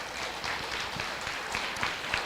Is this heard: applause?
yes